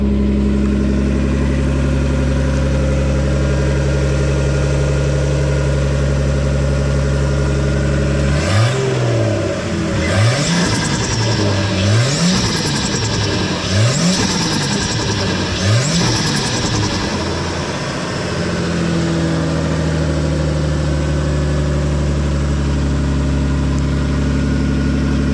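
A car engine idles steadily after a few months unused and warming up, then revs up and down in four or five quick rising-and-falling pulls before settling back to a smooth idle, loud and close.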